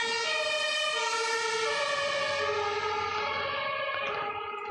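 Ambulance siren wailing steadily as the vehicle passes, its pitch sliding downward toward the end, loud and continuous with a low traffic rumble beneath and no talking.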